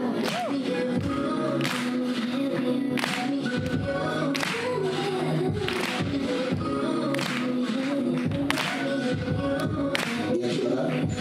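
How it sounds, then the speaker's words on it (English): An audience claps in a steady rhythmic beat at a live event, the regular claps sounding loud and close over music with a strong low pulse. "Can I get everyone clapping real quick?"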